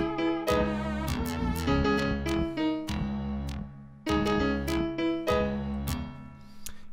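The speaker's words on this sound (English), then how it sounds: "this lead here in Omnisphere, it's like a detuned, just a detuned type of lead" Detuned synth lead from Omnisphere with a woozy circus feel, playing a bouncy melodic phrase over a full beat with deep bass and snappy hits; the loop repeats partway through, loud and dense.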